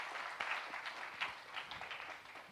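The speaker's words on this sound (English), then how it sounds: "Let's give a huge round of applause and welcome him to the stage." Audience applause at a payments innovation showcase as a speaker is welcomed to the stage: steady, dense clapping from a crowd, moderately distant and unbroken for the whole stretch.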